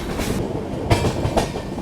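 A passenger train runs on rails near Kashi station in Varanasi on a journey toward New Delhi, with a steady low rumble and two heavier clacks as the wheels cross rail joints.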